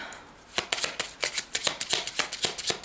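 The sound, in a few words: tarot cards being shuffled and drawn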